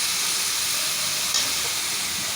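Onions frying in a pan in a village-style kitchen, giving a steady broadband hiss and sizzle at even level, with one faint clink partway through and no voices.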